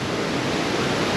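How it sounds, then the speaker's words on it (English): A creek in the Smoky Mountains rushes and flows as a steady, close, dense wash of water noise for just over a second, with no voices. "That's the creek that runs through here."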